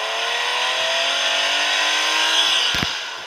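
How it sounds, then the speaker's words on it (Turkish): A video game car engine revs with a rising, buzzing drone, held loud and steady, then a brief sharp knock near the end. "Oyuna araba mı gelmiş?"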